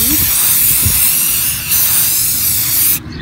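A close, loud aerosol can spraying lacquer inside a basket hisses continuously, with a brief pause midway, then cuts off sharply before a quiet tail.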